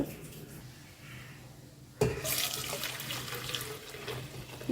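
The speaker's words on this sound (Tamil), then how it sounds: "இப்போ நான் இது வடிகட்டிக்கிறேன் ரெண்டு லிட்டர் பால்" Two litres of curdled milk for rasmalai are strained, whey pouring out in a sudden splashing gush that starts abruptly after a quiet opening and keeps running steadily, close by.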